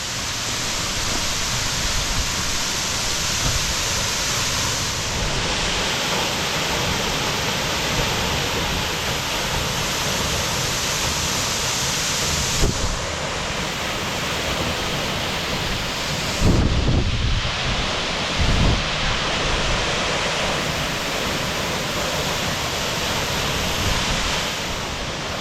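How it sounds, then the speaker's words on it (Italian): The Cascata della Pila waterfall in the Veneto roars steadily as water falls, heard from below as a loud, continuous broadband rush with occasional wind buffeting on the microphone. "Guardate che cascata magnifica, vista da sotto"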